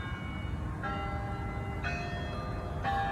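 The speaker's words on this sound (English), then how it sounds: "that's a bell tolling. It's a church nearby." Nearby church bell tolling, three resonant strikes about a second apart, each ringing on over a low background rumble.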